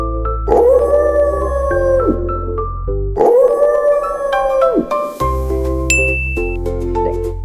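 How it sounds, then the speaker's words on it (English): A wolf howl from a children's animal-sounds collection: two long, loud rising-and-falling howls over a musical backing with chimes and bell-like dings, filling the whole stretch without any talk. "Wolf."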